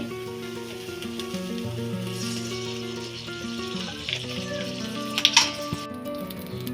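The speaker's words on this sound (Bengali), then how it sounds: "এই কড়াইতে একটু সামান্য তেল দিয়ে দিচ্ছি।" A little oil heating in a kadai gives a soft, steady sizzle under a sustained musical background, ending in a few brief louder crackles and clatters near the close.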